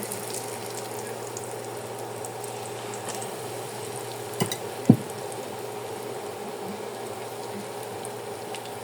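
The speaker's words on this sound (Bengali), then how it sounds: "এখন আমি এটা ফ্রাই করে নেব। এখানে প্যানে তেল দিয়ে দেওয়া হয়েছে, তেলটা গরম হয়ে গেছে।" Coated potato and egg patties fry in hot oil in a pan, giving a steady, even sizzle throughout, with two brief clicks of the pan or utensil midway and no talking.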